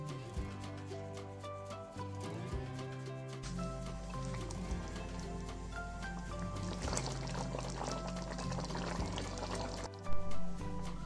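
Vinegar, about three tablespoons, poured into homemade tomato sauce: a soft liquid pour heard under steady background music.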